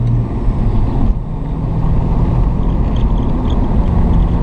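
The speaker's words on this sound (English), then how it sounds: "Righto, so my clutch is slipping" A turbocharged 1998 Ford EL Falcon with a slipping clutch accelerates in a loud, continuous engine roar, heavy low rumble steady throughout with a brief dip near the start.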